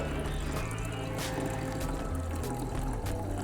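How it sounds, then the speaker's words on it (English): Water poured into the coolant reservoir of a car engine with a 1.7 litre diesel, a steady low gurgling pour running without a break, close up, with no talking. "I'm just going to top it up with some water"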